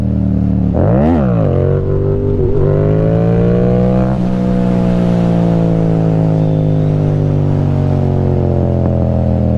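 Motorcycle engine revving hard as the clutch is dropped for a clutch-up wheelie, a loud close rising howl with a quick burst and shift, then a sustained high-revving drone held to the end.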